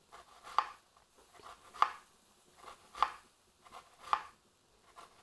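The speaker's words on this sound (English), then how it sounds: "Slice up our onions" A knife slices through onions on a cutting board, four evenly spaced crisp chops about a second apart, close and quiet with no talking.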